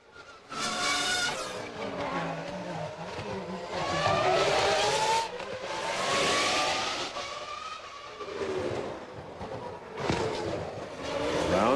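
Formula 1 car at speed during 2001 Monaco Grand Prix practice, its high-revving engine shrieking and rising and falling through the gears, loud and sustained, with a brief dip between bursts of acceleration.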